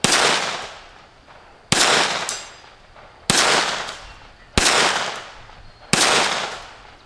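Five sharp gunshots from a Kel-Tec P17 pistol firing .22 Long Rifle Thunderbolt rounds through a short barrel, evenly spaced about 1.3 seconds apart, loud and close, each with a decaying outdoor echo.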